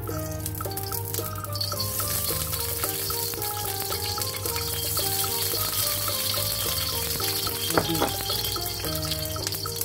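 Garlic frying in oil in a pan until golden brown, a steady close sizzle that runs the whole time under clear tonal background music.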